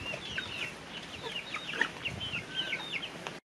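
A hen clucks repeatedly in a rural farmyard patio, with short, fairly close calls in an uneven rhythm over a low background hiss.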